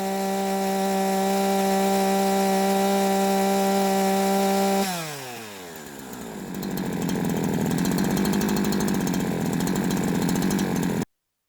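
A Perlabub 70cc chainsaw engine screams at a steady high rev for about five seconds, then drops and slides through a falling pitch before climbing back to a loud, rough roar, cutting off abruptly near the end; no voices.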